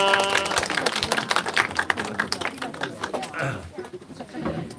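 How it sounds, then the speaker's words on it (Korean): A church congregation applauding gives dense, close clapping that fades gradually, with voices mixed in. "박수하겠습니다"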